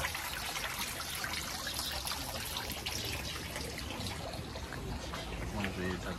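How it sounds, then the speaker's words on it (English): Running water from a garden water feature in Puerto de la Cruz, Tenerife trickles and splashes in a steady, close, continuous wash of sound. "Sit and chill and listen to this running water."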